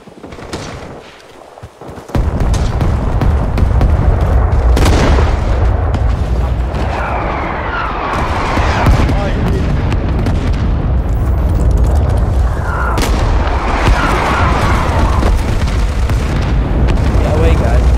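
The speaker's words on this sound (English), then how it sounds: "Check your maps because mortars are coming on Alpha" Mortar explosions in the Winter War game Talvisota begin after a brief quiet. They become a loud, sustained rumbling barrage of heavy booms with sharper blasts punching through now and then.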